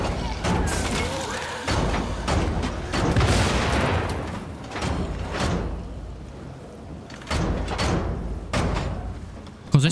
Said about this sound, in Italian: Cos'è stato quell'esplosione?